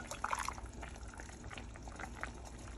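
Broth for chicken and rice is scooped from a pot, giving a faint liquid slosh and gentle bubbling that stays quiet and close throughout.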